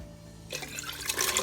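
Diced potatoes and their cooking water poured into a pot of mushroom soup: a quiet lead-in, then a sudden splashing pour with bubbly liquid sounds that continue steadily.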